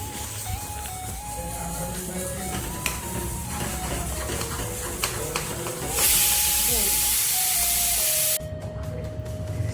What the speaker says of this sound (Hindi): ये कुकर में यहाँ पर चावल पक रहे हैं।